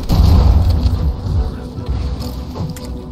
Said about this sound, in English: My guy needs to chill with the rockets.